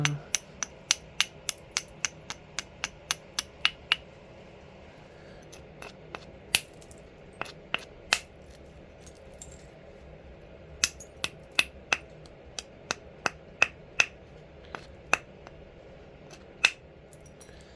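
A wooden tool lightly grinds a flint edge, giving sharp, bright scraping clicks in irregular bursts, close and fairly quiet, with pauses between clusters.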